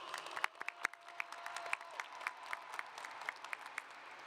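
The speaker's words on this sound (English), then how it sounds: "Let's give them a round of applause." A high school graduation crowd applauds with scattered, sparse clapping that sounds distant and fairly quiet, individual claps standing out over a soft background murmur.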